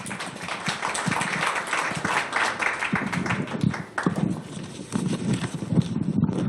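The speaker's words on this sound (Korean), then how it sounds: "박수 부탁드립니다." Audience applause at a Korea–China forum marking 30 years of diplomatic ties, as a professor is invited to the stage; steady, dense clapping throughout with a few louder claps near the end.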